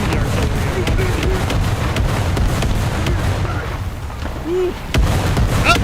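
Artillery fire and explosions in the War Thunder combat game rumble heavily throughout, with a couple of sharper booms standing out, while a player briefly whoops.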